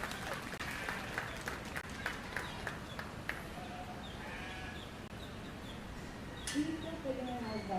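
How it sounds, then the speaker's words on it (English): A crowd at a 4-H/FFA sheep showmanship event applauds exhibitors with steady, moderately distant clapping, while a sheep bleats and voices are heard near the end. "Let's give all these exhibitors another great big round of applause"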